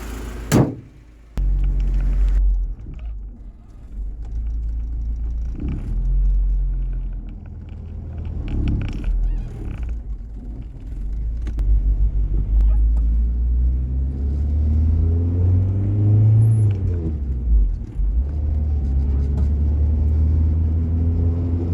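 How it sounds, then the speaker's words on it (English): A Honda Accord CB9 with a swapped H23 VTEC engine on a test drive: a steady low engine rumble and road drone, rising and falling as it accelerates, with a sharp knock near the start. "Let's shut this hood and we're gonna go for a test drive."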